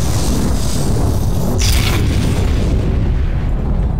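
A grenade goes off in Garry's Mod, a loud booming blast with a brief sharp burst amid continuous heavy rumble, then fading.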